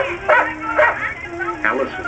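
A small dog barks three times in short, evenly spaced yips over a faint background hum, close and clear.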